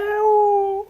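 A person imitates a cat with a single short, tonal meow, clear and close, held for under a second before fading.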